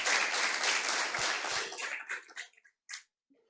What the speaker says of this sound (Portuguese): Posso ouvir uma salva de palmas ao Senhor pela vida dele?